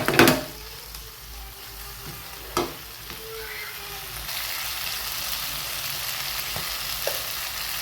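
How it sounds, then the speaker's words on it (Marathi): Tomato chutney with red chili powder and peanut paste cooking in a pan, a steady close sizzle with a few sharp spoon knocks, the loudest at the very start, then an even bubbling hiss. "यामध्ये आपण लाल तिखट घालून घेतलेलं आहे हे छान मिक्स करून घेऊयात"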